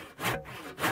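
Chop saw slicing through pen blank tubes for modified slimline pens in a woodshop, two loud broadband cutting bursts with a brief dip between, close and alone without talk.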